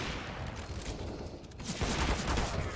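Rapid, dense gunfire rattles continuously in a round of the video game CS:GO, loud and crowded with overlapping shots and no pause.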